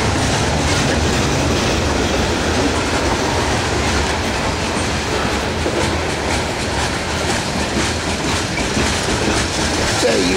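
A long Norfolk Southern freight manifest train rolls steadily past close by, loud and continuous, with rhythmic clickety-clack of wheels over rail joints and a dense rumbling roar throughout.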